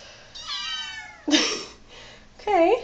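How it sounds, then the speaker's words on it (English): A few close, high-pitched kitten meows, three or four distinct cries with short gaps between them. "It's a kitten chorus."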